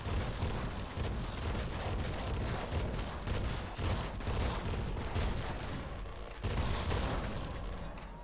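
Bombs explode in the video game Nuclear Throne in a dense, continuous barrage of booming blasts with rapid gunfire-like bursts, loud and relentless over the whole stretch.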